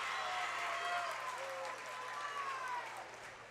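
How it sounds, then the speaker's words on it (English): A high school boys' basketball crowd gives a player a hand after a free throw, in North Laurel vs Jackson County. Moderate clapping and cheering swell from the stands, then fade slightly, heard from some distance with steady gym ambience. "Davidson with a nice hand from the crowd."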